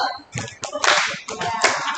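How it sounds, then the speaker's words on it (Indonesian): A group of people at a talk on body fat and muscle gain clap a single beat, loose and ragged rather than in unison, several sharp claps landing close together in a small room. "Teman-teman, tepuk satu."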